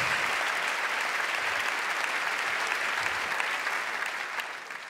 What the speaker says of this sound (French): un tonnerre d'applaudissements pour Mathieu